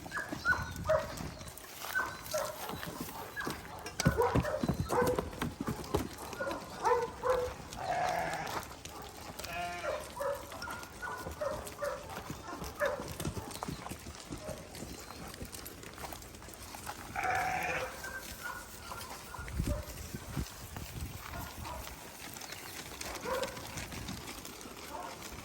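Sheep bleat in a pen on a farm, with several calls near and farther off, mixed with a puppy's sounds and quiet background noise.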